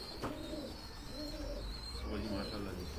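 Pigeons coo in soft repeated phrases amid hot-weather background noise, low and fairly near, with other birds chirping faintly.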